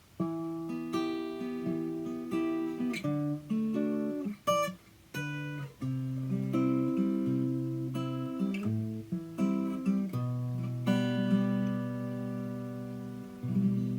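Fingerpicked acoustic guitar chords, notes plucked one after another in a steady rolling pattern, ringing and overlapping, played alone and close.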